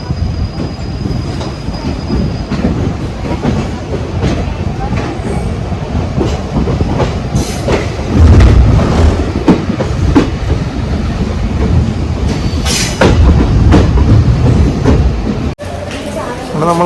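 An unreserved express train travelling in the rain, with a loud, steady rumble, rhythmic clickety-clack of the wheels over rail joints and occasional squeals heard from inside the coach, while someone talks.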